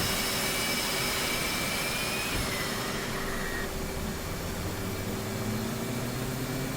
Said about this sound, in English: Calico is now repositioning the A-10 for a pass down the show line